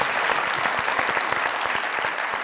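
A studio audience at a comedy talk show applauds, loud and sustained, with crisp individual claps standing out within the steady crowd clapping.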